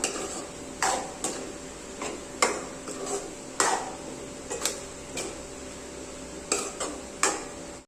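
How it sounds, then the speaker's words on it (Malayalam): Soya chunk curry being stirred in a pot, spoon scrapes and clinks repeating at irregular intervals over a low steady background, close and moderately loud, no talk. "ഇതെല്ലാം കൂടെ നന്നായിട്ടൊന്ന് മിക്സ് ചെയ്ത് കൊടുക്കാം"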